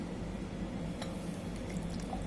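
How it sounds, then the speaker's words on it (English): Water poured into a glass jar holding soil, a continuous gurgling, trickling fill with small bubbly drips and a brief clink near the middle, close and moderately loud. "After adding soil, we will add some water into the jar."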